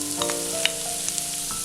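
Sliced onions and green chillies fry in oil with whole spices for a vegetable paneer biryani, giving a continuous close sizzle with faint stirring clicks and no voices.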